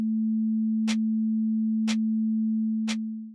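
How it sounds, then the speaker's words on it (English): Steady pure sine tone near 440 Hz holding evenly for over three seconds, with three faint ticks spaced a second apart underneath. "If we then play the same wave, but sped up by a factor of say 440, we get this really nice sine frequency."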